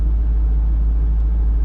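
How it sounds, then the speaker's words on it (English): Stock exhaust of a manual C5 Corvette Z06 with 405 horsepower, a loud, steady low rumble held close by for a moment, with no clear revving or talk. "Sounds actually really good for a stock exhaust."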